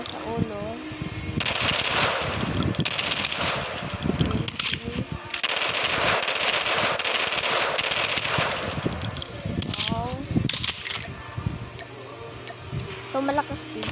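Rapid bursts of automatic gunfire, loud and close, with repeated volleys separated by short pauses and a few quieter shots near the end.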